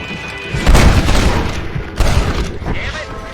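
Gunfire in a Red Dead Redemption shootout, with two heavy booming shots around the first second and the two-second mark over a bed of rumble and low voices.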